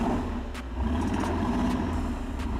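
Mercedes G63 with its 5.5-litre twin-turbo V8 on non-off-road tires, driving in normal mode, a steady low engine drone with tire and road rumble, loud and close throughout, with no talk.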